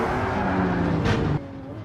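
Car engine in Gran Turismo 7 revs hard under throttle, a loud sustained droning growl that holds briefly and then drops off abruptly to a lower hum.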